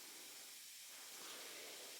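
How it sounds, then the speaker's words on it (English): Fizzing tablets dropped into liquid give a steady, faint, close hiss, a soft continuous effervescent crackle heard alone without talk. "I like the fizzing sound."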